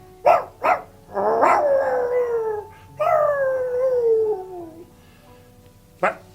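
A dog howls in long drawn wailing cries that slide downward in pitch, preceded and followed by short yelping barks, fairly close and alone without talk.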